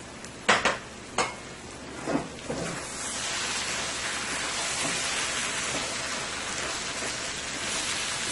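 Potato and corn mutton gets tossed in a pot, a few sharp clanks and scrapes up front before a steady, close hiss of frying takes over.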